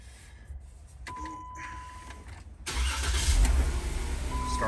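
A Jeep JK with a manual-to-8-speed swap cranks and starts, its engine catching partway through and settling into a louder steady idle, with a faint electronic chime ringing briefly in the background.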